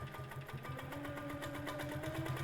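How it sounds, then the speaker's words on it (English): A Quilt Maker Pro 20 Versa ST quilting machine stitching in free motion, giving a steady rapid mechanical thumping rhythm of needle strokes, close and moderately quiet, with no talking. "I'm just going to go ahead and start stitching."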